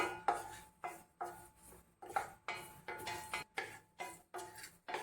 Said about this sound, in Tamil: அடுத்து இந்த கருவேப்பிலையை போட்டு ரோஸ்ட் பண்ணிக்கலாம்